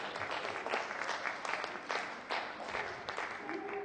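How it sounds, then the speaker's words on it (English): An audience claps steadily and fairly loudly for the whole stretch, a dense wash of many hands with no voices on top. "that was a bigger applause than I got"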